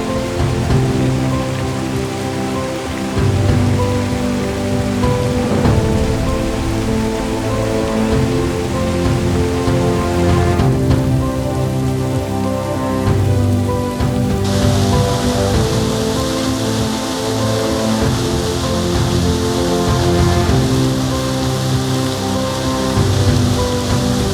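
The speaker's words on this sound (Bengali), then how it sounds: "বৃষ্টিটা এসে যেন সব ক্লান্তি দূর করে দিল নিমেষেই।" Heavy rain pours steadily on the Napittachora waterfall trail, a loud, even wash of drops on leaves and rock that continues unbroken, with no voices.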